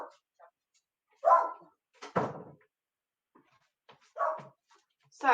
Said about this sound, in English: So forgive my dog.